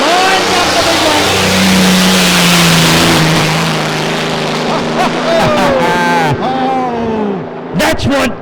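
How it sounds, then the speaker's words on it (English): A loud, powerful Rolls-Royce Merlin V12 engine in an unlimited hydroplane roars close by, its pitch swelling and falling as it revs hard, then drops away into sharp bursts near the end. "That's what a Rolls-Royce Merlin's all about, Sammy."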